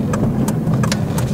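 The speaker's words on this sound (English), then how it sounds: "I'll actually hit VTEC again" An 8th-generation Honda Civic Si engine revs hard into VTEC, giving a loud, steady, close-up roar with no talking over it.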